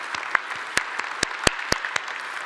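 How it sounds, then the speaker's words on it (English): Gala audience at an awards evening claps for an honoree, a thin spread of individual sharp hand claps over a quiet room hum, sparse and irregular rather than full applause. "you can applaud"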